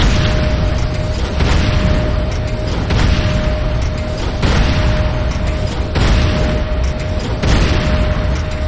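Structures blow up in the video game C&C Renegade, with loud, continuous booming explosions and dense rumbling blasts that come in repeated surges and stay up close throughout, with no talk.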